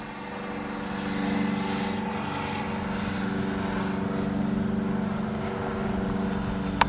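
A Freewing 90mm F-22 Raptor V2 electric ducted-fan RC jet whines steadily overhead during a touch and go, a continuous airy roar with a faint high tone sliding slowly downward, moderately distant, with no talking.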